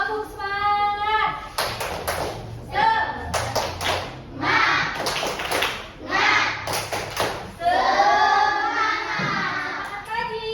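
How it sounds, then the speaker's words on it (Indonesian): A classroom of children does a rhythmic spirit clap, with bursts of clapping and thumps in a set pattern mixed with loud chanting voices, all close and lively. "kita tepuk semangat dulu"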